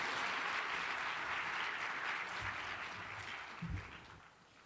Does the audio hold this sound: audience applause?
yes